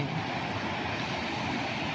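Steady broadband rush of water pouring down a waterfall in Norway where salmon leap, a constant close roar with no talk.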